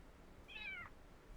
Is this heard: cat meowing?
yes